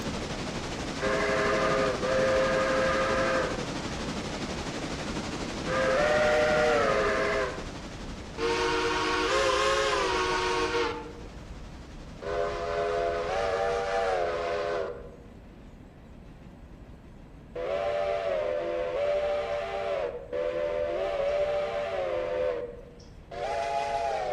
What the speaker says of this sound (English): So that's a Nathan 6 chime.